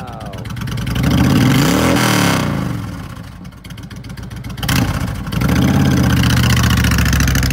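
Close, loud 2007 Honda VTX1300S heavyweight V-twin touring motorcycle alternating between a lumpy idle and several strong throttle blips, the revs climbing and dropping in repeated swells with no talking.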